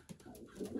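A domestic pigeon in a loft gives a short, low coo, close and soft, with light rustling around it.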